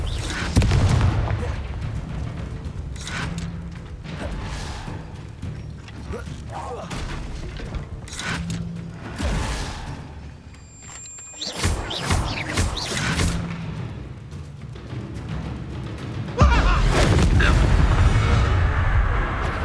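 Fire-spell explosions in the Hogwarts Legacy video game, several heavy booms and thuds spaced through a noisy battle with mechanical clatter, while game characters speak between blasts.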